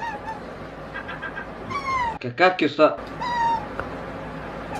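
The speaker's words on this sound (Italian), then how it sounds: "Ma stanno parlando un gatto e un gabbiano." A cat meows and a seagull gives harsh, honking calls in a short back-and-forth exchange, with several harmonic cries close by and a person talking over them.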